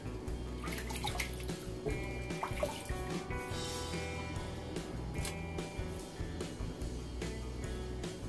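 Tap water runs steadily onto a shaving brush head, a close, continuous trickle and splash that lasts the whole stretch with no talking.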